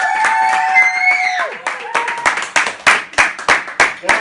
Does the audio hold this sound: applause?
yes